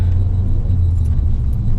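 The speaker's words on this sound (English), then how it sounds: "It's the clutch plates grinding, I believe." A car's clutch plates grind while it drives on narrow city roads in rush-hour traffic, heard as a steady, loud, low rumbling drone that holds throughout with no voices.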